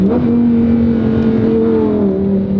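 A Lamborghini's engine drones loudly and steadily from inside the car at cruising speed, its pitch easing slightly lower near the end as a gear changes, with no talking.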